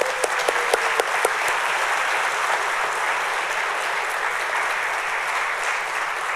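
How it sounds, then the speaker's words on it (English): An audience at a police department badge pinning ceremony claps, with a few distinct claps at first, then a dense, even round of applause that holds steady throughout. "One more round of applause, guys."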